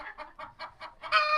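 Chickens cluck in a steady series of short, close calls, ending in a louder drawn-out rooster crow, with no talking over them.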